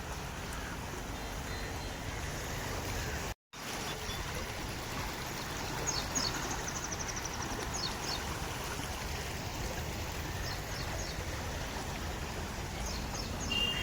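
A rain-swollen Konkan village stream after heavy downpour, a steady broad rush of flowing water at even loudness throughout, broken once by a brief dropout, with faint high chirps in the background.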